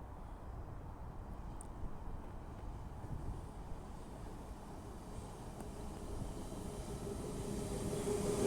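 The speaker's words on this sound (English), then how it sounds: "The next train to be coming through will be a Class 802 for Transpennine Express, running from Manchester Piccadilly to Newcastle." A Class 802 Transpennine Express train running from Manchester Piccadilly to Newcastle approaches Guide Bridge, a low steady rumble slowly building in loudness, distant at first and growing nearer toward the end.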